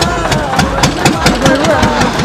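A vehicle engine runs loud and close in a steady, throbbing idle for the whole stretch, with a rhythmic mid-range pulse and no pauses.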